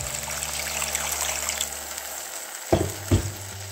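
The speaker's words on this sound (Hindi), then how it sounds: "अब मैं इसमें गर्म पानी ऐड करूंगी" Hot water poured into sizzling fried masala in a pan while cooking Indian egg curry, a steady frying hiss followed by two sharp bursts of bubbling as the water hits the hot oil.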